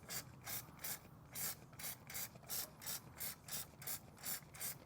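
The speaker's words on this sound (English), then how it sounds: "And then I'm gonna spray it with the water and clean it off." About a dozen quick hissing squirts of water from a spray bottle onto a golf club, in a steady rhythm, close up and fairly quiet, with no talking.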